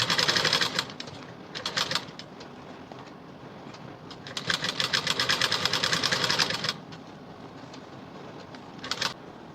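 A sewing machine runs a line of stitching along a quarter-inch fold on a high-neck blouse, sounding in close, loud bursts of rapid clatter with quieter pauses between them.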